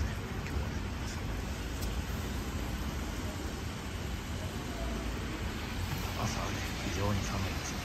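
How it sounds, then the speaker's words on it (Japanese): Steady rain falls at Nakayama Station in Yokohama's Midori Ward, Kanagawa, on a cold April day. The dense, even hiss continues throughout, and brief faint talk rises near the end. "今日はね、あいにくの雨ですね。"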